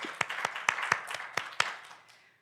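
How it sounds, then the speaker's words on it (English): An audience claps in a run of sharp, separate hand claps over about two seconds at a regional business conference on sustainability, fairly faint and fading away at the end. "let's have a big round of applause for Sachiko, Salote, and Rona."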